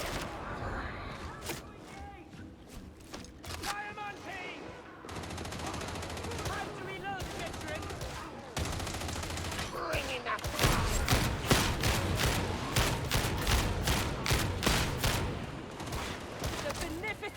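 Rapid gunfire in a Warhammer video game, bursts of sharp shots and machine-gun rattles that grow denser and louder toward the end, mixed with game voices and effects.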